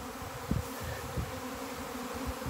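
A swarm of honeybees buzzing outdoors, a steady low drone with pulsing swells and a few louder passes as individual bees fly close.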